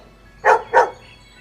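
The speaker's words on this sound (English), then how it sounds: "dog," Two quick dog barks in succession, close and fairly loud, with quiet before and after.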